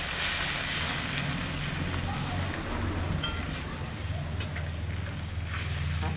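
Oil-released spice paste sizzles in a hot pan as water is poured in, a continuous, dense hiss and crackle that stays close and fairly loud the whole time.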